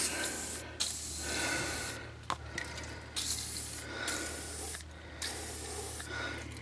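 Lubricant is sprayed from a can onto a stuck wheel of a 1997 Volkswagen Jetta GT in short hissing bursts, about five of them, separated by brief pauses and light rubbing noises, close to the microphone.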